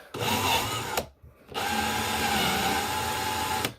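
A DeWalt 20V MAX XR brushless cordless drill driver, model DCD800, spins up with its chuck open in two bursts, a close whirring motor whine with a brief pause between runs.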